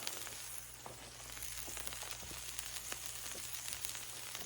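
Alligator meat cooking slowly on a Blackstone griddle gives a continuous, even sizzle with scattered small pops and crackles, moderately quiet and close, with no talking.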